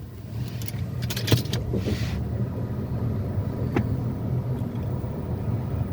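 An automatic rental car's engine runs with a steady low idle hum throughout, with a few brief clicks and a short jangle early on as it's switched on.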